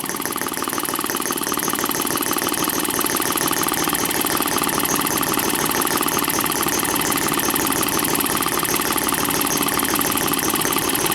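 A Microcosm M12 model engine running on a test stand, producing a steady, loud, rapid mechanical chatter with rattling valve gear that holds constant throughout without pauses.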